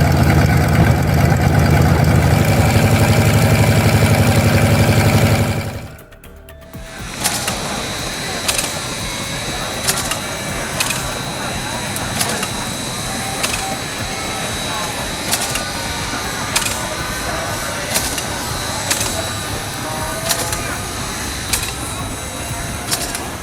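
An old 550-horsepower wartime aircraft piston engine runs loudly and steadily at first, then cuts out abruptly, leaving a quieter rattling mechanical hum with periodic ticks and clicks and a voice talking over it.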